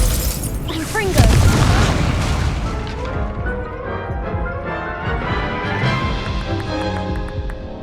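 Confringo fire-blast spells in the video game Hogwarts Legacy burst in a rapid string of loud booming explosions, one big blast at the start followed by repeated crackling impacts over swelling game music.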